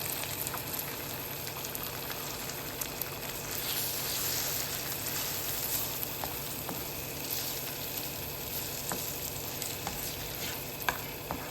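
Eggs with moringa leaves fry in a pan with a dense, steady sizzle throughout, dotted with small scraping ticks as they are stirred up close, and no voices.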